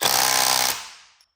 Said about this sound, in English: I would not tighten my wheels with that gun